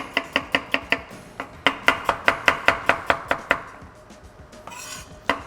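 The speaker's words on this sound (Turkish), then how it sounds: "Hemen bir tane soğanı yemeklik doğrayacağım dostlar." Rapid, crisp knife chops slice an onion on a cutting board in quick rhythmic bursts, pause briefly, then resume before a short rustle at the end.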